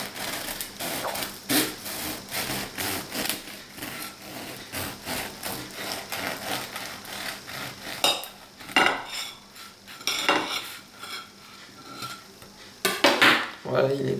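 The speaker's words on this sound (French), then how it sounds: "Voilà notre pain tout juste sorti du four et on va le couper en deux" Knife sawing through a freshly baked, still-warm homemade burger bun, a run of rapid scraping and rubbing strokes followed by a few louder knocks and clatters against the board.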